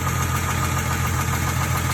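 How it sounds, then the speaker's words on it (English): Steady engine running in a 2012 Ford Mustang with the 3.7L V6, suspected of rod knock: a continuous loud drone with a fast, even ticking knock throughout and no talk. "Does that sound like rod knock to you guys"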